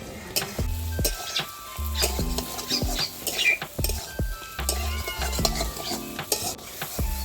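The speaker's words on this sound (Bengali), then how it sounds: "এবার চিংড়ি মাছগুলো মশলার সাথে দিয়ে সুন্দর করে কষাতে হবে" Shrimp stir-fried with spice paste in a pan, bursts of sizzling and frying alongside repeated scraping and stirring strokes, close and busy with no talking.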